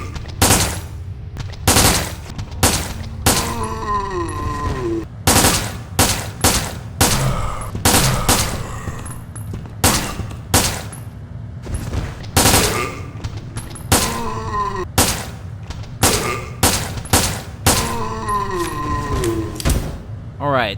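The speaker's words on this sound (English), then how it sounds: "it is burst fire, so it probably is an ammo eater" A burst-fire handgun in Resident Evil: Dead Aim shoots zombies in sharp, repeated three-round bursts with short pauses between them, loud and close, with occasional thuds and game effects mixed in.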